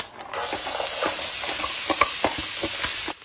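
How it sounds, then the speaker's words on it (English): Onions and carrots fry in hot oil in a pan, a steady close sizzle with repeated stirring scrapes and clicks running throughout, cutting off near the end. "we've got some hot oil in the pan, and I'm going to put in the onions and carrots to fry them off"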